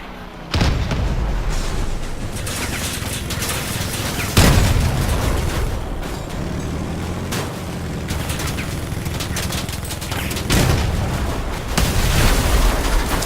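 Vehicle-mounted guns fire in the online combat game Crossout, heavy booming shots and bursts repeating every few seconds over rumbling engine and battle noise.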